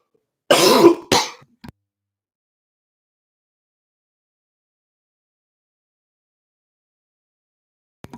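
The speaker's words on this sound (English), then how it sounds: "maybe if I talk a little quieter, I won't cough quite so much" Two harsh coughs close together near the start, a small throat sound after, then a long stretch of silence.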